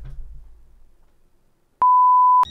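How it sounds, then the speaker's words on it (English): A single steady electronic alarm tone in the video game Fears to Fathom, sounding loud and clean for about half a second after a quiet stretch, then cutting off abruptly. "Ah, that alarm!"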